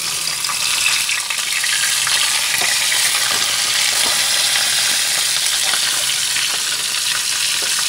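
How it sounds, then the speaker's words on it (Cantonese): A whole golden threadfin bream fries in a wok, giving a loud, steady, close sizzle with faint crackles and no voices. "條魚咧要煎到佢全熟"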